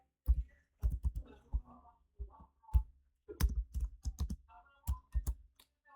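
Password being typed on a computer keyboard: irregular bursts of close, crisp key clicks, several quick runs of strokes separated by short pauses, with no talking.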